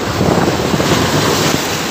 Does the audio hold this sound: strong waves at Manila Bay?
yes